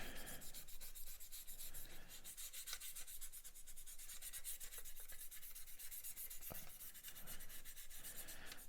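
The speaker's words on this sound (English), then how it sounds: "What you can do if you want to just give it a quick sand over" A small plastic fuel tank part from a 1/35 Spitfire model kit is sanded with quick, rhythmic back-and-forth rubbing strokes that are close, faint and continuous throughout.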